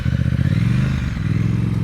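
A motorcycle chugs along at low speed during advanced slow-speed riding practice, its engine pulsing loudly and unevenly nearby with a rough, lumpy throb and slight rev changes.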